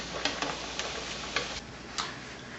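Plantain slices fry in 350-degree oil for tostones, giving a steady, dense sizzle with occasional small pops and crackles, close and continuous.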